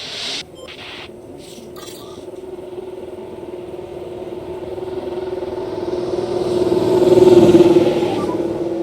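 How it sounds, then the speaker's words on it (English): An F1 car engine in the video game F1 Manager 23 hums steadily and builds in pitch and loudness, peaking near the end as the car pulls away onto the track, with no talking. "let's get a car out on the track for its first run and see how it goes."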